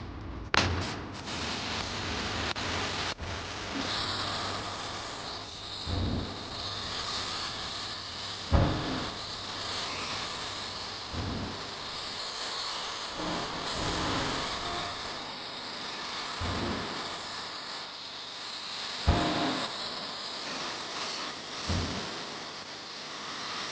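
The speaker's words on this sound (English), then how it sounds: "I'm going to shoot the whole job with this gun, start to finish" A spray gun lays sealer on a car in a paint room, giving a steady, fairly quiet broadband hiss that runs throughout, broken by occasional soft thumps and knocks.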